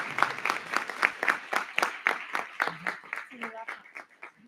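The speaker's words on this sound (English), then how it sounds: "Let's give them a huge round of applause tonight." Students from a school board meeting's student council receive a round of applause, rapid overlapping claps from a seated audience, moderately loud with voices mixed in and thinning toward the end.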